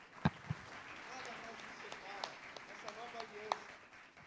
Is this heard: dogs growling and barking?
no